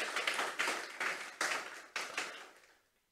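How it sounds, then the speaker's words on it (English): Audience applause at an awards ceremony in Mayaro, Trinidad, rising in several close bursts of clapping from a crowd before tapering off into silence. "Let's give him a round of applause again."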